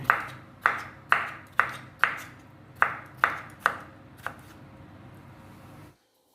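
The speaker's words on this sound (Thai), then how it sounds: "แตงดองยายจะเอาสักห้าลูกค่ะ ผ่าครึ่งแล้วก็หั่นเล็กๆเหมือนกันค่ะ" A knife slices pickled cucumbers on a cutting board, about nine sharp, evenly spaced cuts, close up, before stopping into quiet.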